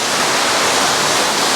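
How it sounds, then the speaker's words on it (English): Water drains in a loud, steady rush from a regenerative media filter tank out to waste, a dense, continuous hiss-like gush heard up close without talk. "Now all the water is going to drain from our tank"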